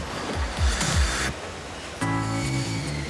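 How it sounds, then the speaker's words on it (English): A Henry vacuum cleaner's motor runs with a steady, airy rushing roar at moderate level, and a faint tonal hum joins partway through. "The motor generates a constant 100 mile an hour stream of air that sucks dust up from hard floors."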